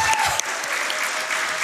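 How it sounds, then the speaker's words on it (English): An audience at a speedrunning charity marathon event applauds, a dense, steady wash of clapping that carries for the whole short stretch at close, loud level. "Let's get one more round of applause for Kirbymastah's awesome Fire Emblem run."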